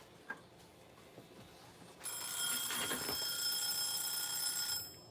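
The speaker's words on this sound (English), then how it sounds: "don't set the timer, ding!" A timer rings out during a birthday live stream, a bright ringing tone that begins suddenly, holds for close to three seconds and then stops. A few faint knocks come before it.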